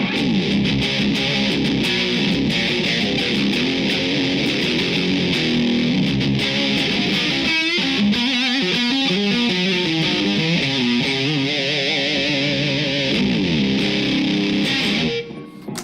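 Heavily distorted electric guitar through a Seymour Duncan SFX Power Grid distortion pedal plays continuously and loudly, with sustained chords and a stretch of bending, wavering notes before cutting off abruptly at the end.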